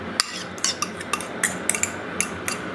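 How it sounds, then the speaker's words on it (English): A utensil scrapes and taps against a bowl as melted butter is stirred into noodle kugel, a quick run of about a dozen clinking strokes in an irregular rhythm at close range. "And now I'm going to put in the 6 tablespoons of melted butter."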